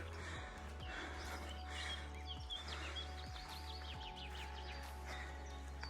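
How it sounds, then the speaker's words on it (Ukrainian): Birds chirping at a mountain ski resort in summer, with faint, scattered calls and tweets over a steady low background hum, no talking. "Не, ну те пташки."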